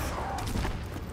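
A video game turret fires a dense, rapid burst of shots, loud and continuous over about a second.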